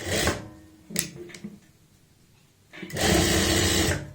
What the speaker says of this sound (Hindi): बुकरम के साथ साथ सिलाई लगानी है, ये ध्यान रखना है।